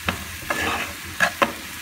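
Spices, coriander, parsley and olive oil are stirred together in a bowl, giving a few soft scraping and clinking strokes at close range, quiet and intermittent with no voices.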